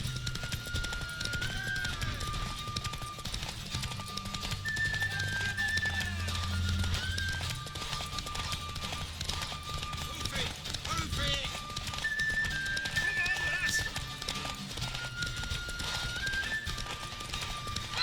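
Horse hooves clip-clop in a steady trot while a horse neighs now and then, with people talking over the sound, in the video game The Witcher 3: Wild Hunt.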